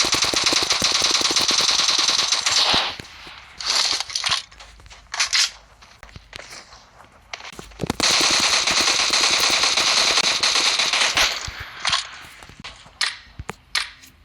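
An SKS DMR fires in rapid tapped bursts in BGMI/PUBG, loud sharp shots in long fast strings separated by short pauses.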